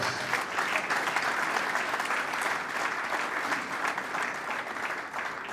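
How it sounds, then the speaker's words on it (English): Sustained audience applause fills a hall at a Nigerian maritime industry event, steady and dense throughout with no break, no speech over it, and only a slight easing toward the end. "Please give yourselves a big round of applause."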